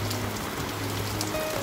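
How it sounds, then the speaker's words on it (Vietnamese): Steady rain falls on a surface, a dense, continuous patter of drops that stays even and fairly close throughout, with no one speaking. "Thì hiện tại trời đang mưa,"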